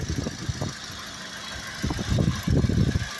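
Petrol car engine idling quietly and evenly in original, unmodified condition, a low steady mid-frequency hum with soft irregular pulses, close by and alone without talk.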